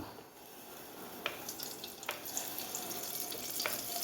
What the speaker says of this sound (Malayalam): ഇനി നമുക്ക് എണ്ണ ഒഴിക്കാം ഞാൻ നല്ലെണ്ണയാണ് ഒഴിക്കുന്നത്